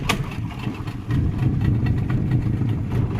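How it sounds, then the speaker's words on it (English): Two-stroke outboard engine on a fishing boat running steadily at a low idle, with a continuous loud, rough low rumble and no talking. "Doesn't like the sound of a 2-stroke."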